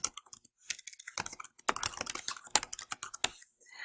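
Typing on a computer keyboard: quick irregular runs of close, crisp key clicks with short pauses between bursts, fairly quiet and without speech over it.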